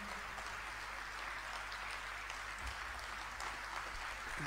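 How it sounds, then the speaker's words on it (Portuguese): A concert crowd claps inside the Pavilhão de Desportos de Anadia during a live show, a steady, fairly faint mass of applause with a low electrical hum running underneath. "um aplauso enorme para a nossa equipe técnica, o Alfredo,"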